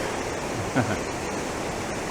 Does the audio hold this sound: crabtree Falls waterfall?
yes